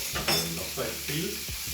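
Steak sizzling in a hot pan, a steady frying hiss broken by a few stirring or scraping clatters, close and moderately loud with no talking.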